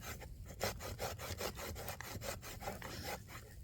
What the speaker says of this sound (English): You just take your rasp onto a branch.